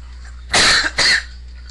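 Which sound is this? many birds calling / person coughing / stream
person coughing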